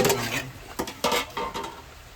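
Boiled tapioca with turmeric is stirred in a pot, giving several close, irregular clanks and scrapes of a utensil against the metal.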